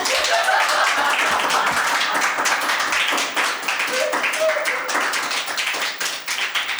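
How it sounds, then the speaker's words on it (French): Dense, rapid clapping from many hands, continuous and fairly loud the whole way through, like a lively group applauding. "Voilà, je peux applaudir."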